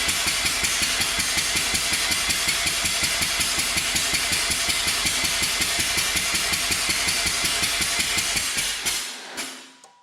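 A Mazda RX-8 rotary engine cranks on the starter for a front rotor compression test, giving a fast, even, loud chugging pulse that runs for about nine seconds before cutting off abruptly.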